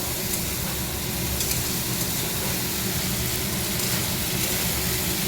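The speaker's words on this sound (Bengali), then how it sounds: "এটা একটু ভেজে তারপরে ডাটাগুলো দিয়ে দেবো, তো মশলাটা ভাজা হয়ে যাবে।" Spices and potato fry in a hot pan on a gas stove, giving a loud, steady, close sizzle that hisses evenly throughout with no voices.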